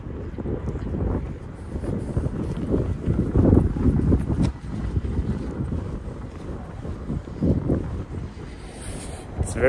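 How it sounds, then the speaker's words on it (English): Strong wind roars and buffets across the microphone at the top of the Harbour Tower in Copenhagen, a continuous loud rumble with gusty surges throughout. "It's very windy up here."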